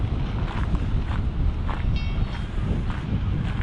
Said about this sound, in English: Windy and exposed.